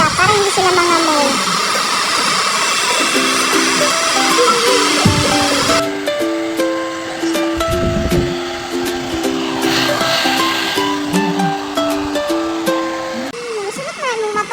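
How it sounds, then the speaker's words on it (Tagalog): A pet blower drying a dog's wet fur after a bath, a loud steady whooshing roar that shifts in tone as it moves, with people talking over it. "Nag-blower na. Para matuyo agad yung balahibo nila."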